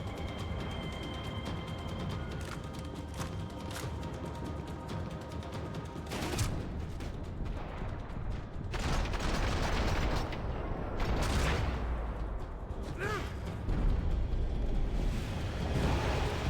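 Gunfire and booming impacts in the Max Payne 3 video game, a shotgun among the weapons, dense and continuous over a rumbling game mix with several louder bursts, no talking.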